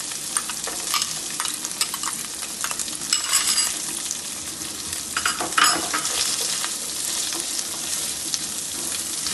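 Badshahi pulao ingredients, including raisins, stirred in a pan over a low gas flame: a broad, steady frying hiss with bursts of louder scraping and rustling from the spatula, close and uninterrupted.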